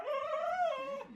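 A pet dog whimpers and whines excitedly in a continuous high, wavering cry that rises and falls, close and fairly loud, with no talking over it.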